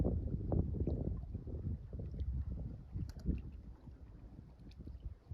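Low, rumbling wind buffets the microphone in uneven gusts, with faint splashing water mixed underneath, on a lake in winter.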